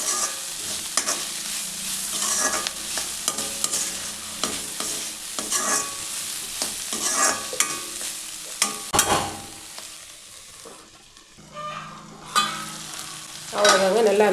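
A spatula stirs flat beans frying in a pan for a South Indian stir-fry, sending out rhythmic scraping and clattering bursts over a continuous close sizzle, with brief pauses between strokes.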